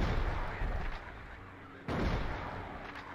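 Gunfire in a video game: dense, loud bursts of shooting rumble continuously, with a fresh sharp volley cutting in about two-thirds of the way through.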